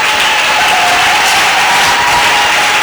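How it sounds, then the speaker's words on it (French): Church congregation applauding and praising the Lord, a steady dense wash of clapping with crowd noise sustained throughout, loud and close, with no break. "Acclame le Seigneur très fort."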